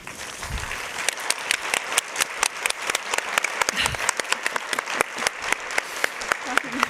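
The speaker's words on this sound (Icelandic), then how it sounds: "gefum Tómasi gott klapp" An audience at a conference claps for its chairman, dense applause with distinct sharp individual claps standing out, fairly close and lively throughout.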